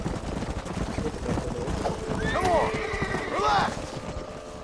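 A horse whinnies twice and hooves clop on the ground in the western video game Red Dead Redemption, with game ambience and voices talking over the animal sounds.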